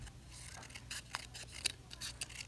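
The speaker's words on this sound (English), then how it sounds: "I will simply just take another piece of my scrap and I'm gonna cut it" Scissors snip through a piece of scrap paper in a series of quick, close, crisp cuts with small pauses between them, quiet and unaccompanied by any talking.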